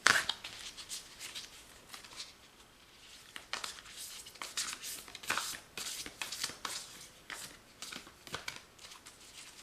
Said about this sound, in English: So I am going to try shuffling these again